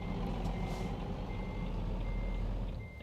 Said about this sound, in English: I suck at backing up a 53-footer